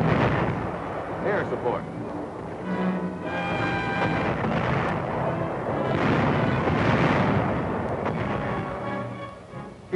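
Heavy naval artillery fire supporting a beach landing, with continuous booming blasts and rumbling explosions under a voice speaking over the barrage.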